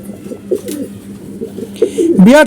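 A pair of teddy pigeons with five to six feathers coos close by in soft, repeated rolling calls, rising to a louder coo near the end, with faint murmuring in the background.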